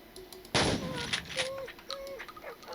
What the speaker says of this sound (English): What the hell am I shooting?